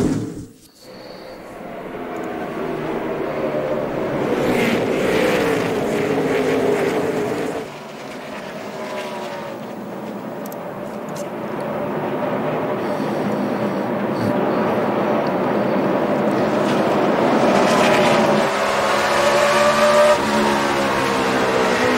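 NASCAR Sprint Cup cars racing in the Food City 500 at Bristol, a loud continuous engine roar with rising and falling passes, voices faintly underneath.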